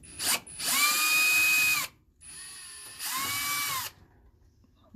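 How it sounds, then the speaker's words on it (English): Power drill backing Phillips head screws out of a stove top: two sustained whirring bursts, each about a second and a half long, close and loud with a rising pitch tone, separated by a short pause. "I've got my drill bit here with my Phillips head, because these are screws that have a Phillips head on them"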